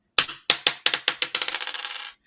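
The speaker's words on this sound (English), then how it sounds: "All right, ready to roll my dice" Dice tossed onto a desk clatter in a run of sharp bouncing clicks that come faster and softer, settling into a quick rattle and stopping after about two seconds.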